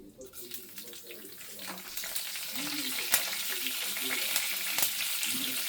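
Green chillies, garlic and curry leaves crackle and sizzle in hot oil for a spinach buttermilk curry tempering, a steady close frying hiss with sharp pops throughout.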